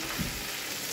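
Finely chopped tomatoes with parsley fry in a pan, giving a soft, steady sizzle close by with no talk over it.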